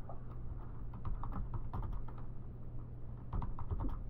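Rapid keystrokes on a computer keyboard while Unity code is written for a Project Tango and Google Cardboard VR motion-tracking project, clattering steadily and fairly close over low background hum, with no talking.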